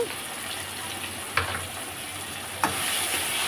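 Ginger paste fries in a pan for a chicken and drumstick curry, giving a continuous sizzle with a couple of sharp stirring clinks, close and alone.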